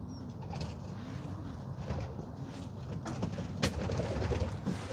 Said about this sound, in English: You can hear the pigeons.